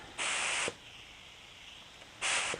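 Two short bursts of spray hiss from a paint spray gun test at about 2 bar, a longer one then a brief one after a pause, steady broadband airflow with quiet room tone between.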